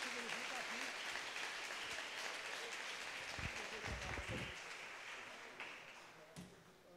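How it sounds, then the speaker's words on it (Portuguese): A church congregation claps in sustained applause that tapers off toward the end, with voices calling out over the clapping. "Dá uma salva de palmas aí"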